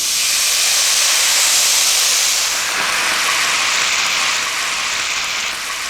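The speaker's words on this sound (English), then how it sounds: "So we'll just turn the heat down a little bit so it doesn't spit everywhere." A hot pan of beef shin casserole spits and hisses steadily as liquid goes in for deglazing, a loud, close, continuous broadband sizzle that eases slightly partway through.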